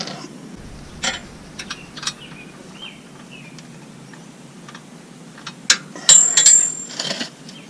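A nut is worked off a bolt on an off-road skid plate install: scattered metallic ticks, clinks and ratchet-like clicks, close and fairly faint, with a louder clattering burst near the end.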